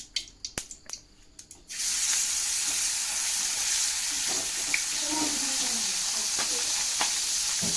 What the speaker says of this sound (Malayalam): നമ്മൾ പൊയ്ത് പിടിച്ച മീൻ പൊരിച്ചാണ്